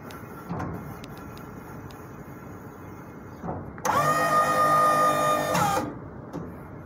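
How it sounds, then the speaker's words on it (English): A tail lift motor starts up partway through, a loud steady electric whine with a tonal hum running for about two seconds before cutting off, preceded by quieter clunks and background noise. "You can hear the sound. You can see it operating. This is the motor."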